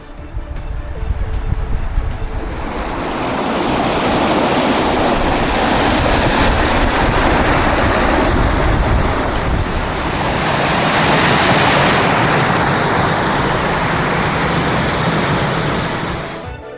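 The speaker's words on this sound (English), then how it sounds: "Hear the water?" Rushing river water with rapids behind a Maine waterfront farm, a loud, steady broadband roar that swells in after a quieter start and fills the whole stretch.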